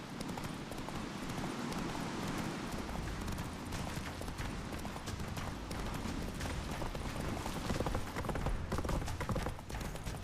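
Roach, Geralt's horse in The Witcher 3, gallops in a fast continuous drumming of hooves under a dense mix of game effects, growing slightly louder near the end.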